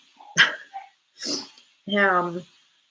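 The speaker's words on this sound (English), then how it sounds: "can you hear the dog barking?" A dog barks three times with short pauses between, close by; the last bark stretches into a howling, whining tone.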